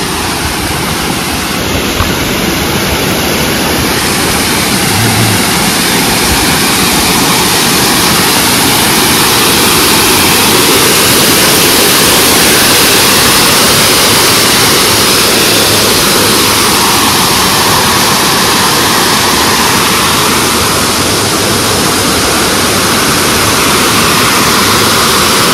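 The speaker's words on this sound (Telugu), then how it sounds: "మస్తు వాటర్ ఫాల్స్, సూపర్" Waterfalls seen from a viewpoint at Hampi, a loud, constant roaring rush of falling water that stays dense and unbroken throughout.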